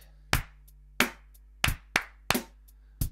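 Hands clap out a rhythm, six sharp, close claps in an uneven pattern over a low steady hum, with no voices.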